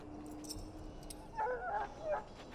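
An ill dog in the video game Dragon Age Origins gives a few soft whimpers and whines over quiet background ambience, set at a moderate distance.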